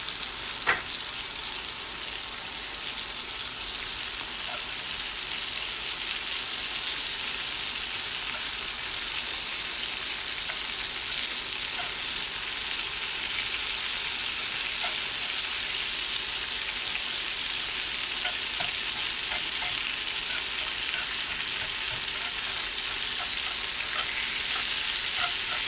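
Sausage fries in a skillet for Southern sausage gravy with a continuous crackling sizzle, moderately loud and steady, with scattered small pops and no voices.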